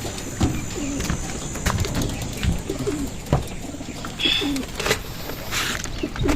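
Pigeons let out onto a house roof coo repeatedly in low, soft, throaty calls, with faint chirps and light pattering around them, fairly close amid steady outdoor background noise.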